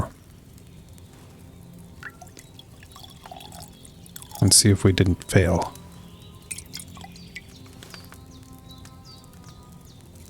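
A potion is poured in Kingdom Come Deliverance II after herbs are ground with mortar and pestle: a short burst of liquid splashing and dripping, about a second long, midway through, with a person talking around it.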